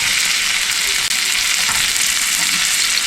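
Sausage, green peppers and tomatoes fry in a pan, a loud, dense, steady sizzle with faint scraping of stirring running under it, no voices.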